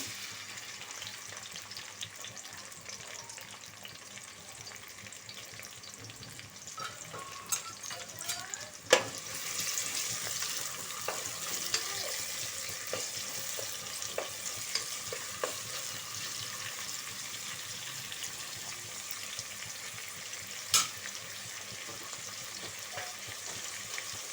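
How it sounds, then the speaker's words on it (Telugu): Thinly sliced onions fry in a pan for mutton curry, a steady broadband sizzle running throughout with occasional clinks and scrapes of stirring, close and moderately loud, no talk. "సన్నగా రెండు ఉల్లిగడ్డలు తరిగి తరిగి పెట్టుకున్నాను వేసేస్తున్నాను"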